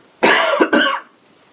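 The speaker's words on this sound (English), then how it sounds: "I'm going to cough." A person coughs twice in quick succession, close and loud, with a short pause between the two bursts and silence before and after.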